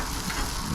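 Shredded hash browns sizzle in melted butter on a Blackstone griddle set to high, a steady, close, dense frying hiss with no talking.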